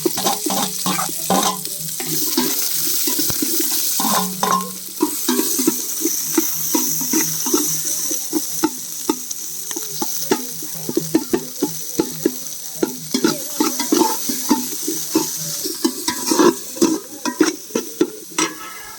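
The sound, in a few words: curry leaves and mustard seeds spluttering in hot oil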